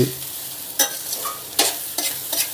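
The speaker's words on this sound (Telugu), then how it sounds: "స్పీడ్గా టాస్ చేసుకోవాలన్నమాట ఎంత స్పీడ్గా టాస్ చేయాలంటే అంత స్పీడ్గా టాస్ చేసుకోవాలి" Egg fried rice being tossed fast in a wok, with a steady frying sizzle broken by several sharp, loud scraping bursts of the tossing, close and with no talk.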